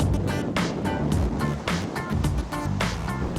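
A Sacs Strider 11 inflatable boat running at 35 knots with engines at 4,200 RPM, a close roar of wind and spray with hull slapping over waves in irregular bursts.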